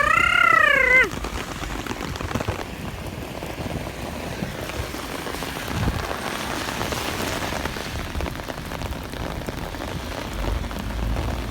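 Rain falls steadily in Dubai, a dense hiss of drops on outdoor surfaces lasting throughout, with a brief warbling tone at the very start.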